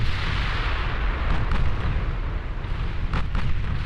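Naval battle in Ultimate Admiral Dreadnoughts, a 1920s German fleet engagement with dense, continuous artillery fire and explosions booming one after another in a heavy, rumbling wall of sound.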